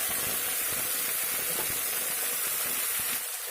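Carrots, beans and chopped capsicum frying in hot oil, a steady close sizzle and hiss that runs without break and thins slightly near the end.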